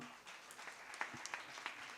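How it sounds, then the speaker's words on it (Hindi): Scattered, quiet applause follows a girl's poem recital at a Hindi youth gathering at the Nehru Centre, a thin smattering of claps with a few sharper individual hits, faint and brief. "और उसके लिए इतनी सी तालियां"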